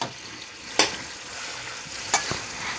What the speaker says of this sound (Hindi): ये देखिए हमारा ऑयल गर्म हो चुका है। अब हम इसमें प्याज डाल देंगे और इसे ब्राउन होने तक पका लेंगे।